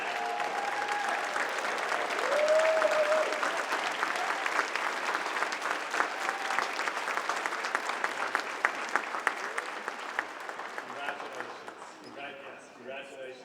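Sustained applause from a large audience at a commencement send-off ceremony, loud dense clapping filling the room and tapering off near the end, with faint voices underneath.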